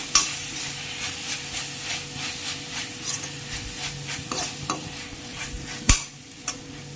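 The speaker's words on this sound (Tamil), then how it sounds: "இது கொஞ்சம் நல்லா வதங்கின பிறகு தக்காளி ஆட் பண்ணிக்கலாம்." Chopped onions and tomatoes are stirred and scraped in a pan with a soft sizzle, a steady rhythm of spoon strokes and a sharp knock near the end, while sautéing for pepper chicken fry.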